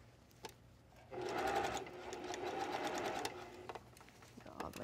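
A sewing machine stitches around a garment neckline in a quick, steady run of a few seconds. It is fairly close and follows a few isolated clicks.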